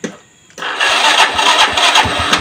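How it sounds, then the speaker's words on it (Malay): A motorcycle with a weak battery cranks briefly, then catches and runs loudly with a rough, rattling idle close by. "Sebab nak hidupkan motor ni Agak susah lah"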